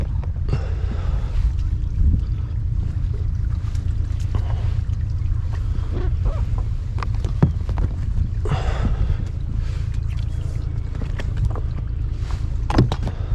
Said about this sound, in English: I'll let you really enjoy that heavy rain.